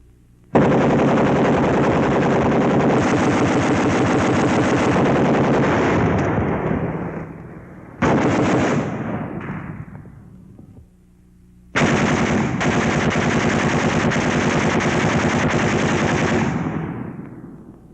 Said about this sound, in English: But when it's pouring out of a machine gun, light or heavy, it can make a man look like a sieve in a matter of seconds.